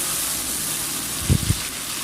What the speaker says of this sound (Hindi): थोड़ा सा हम पानी लगा लेंगे इसको, ताकि ये हमारे प्याज जो है जले ना।